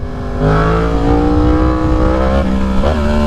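Yamaha MT-10 (2019) motorcycle engine revving under throttle, a sustained loud harmonic drone rising and falling in pitch, close and continuous with no talking.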